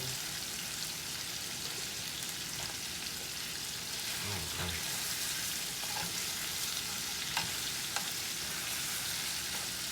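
Chicken pieces in an Italian herb marinade fry in a pan with a steady, close sizzle and crackle throughout, with small pops scattered over the hiss.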